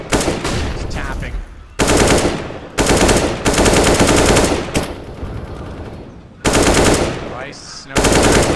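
Automatic gunfire in Counter-Strike: Global Offensive during a professional championship match on the Inferno map, with loud, close bursts of rapid shots separated by brief pauses.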